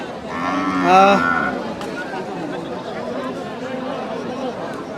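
A cow moos once at a cattle market in Tangail, loud and close, a drawn-out low call lasting about a second, followed by quieter background murmur and outdoor noise.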